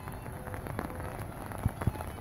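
Light evening rain falling by the American River in Sacramento, a faint steady patter with a couple of sharper drops near the end, quiet and without voices.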